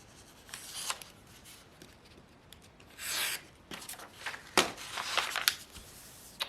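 Scissors snip through a paper sewing pattern, several crisp cuts with paper rustling and crinkling between them, fairly close and quiet, no voices.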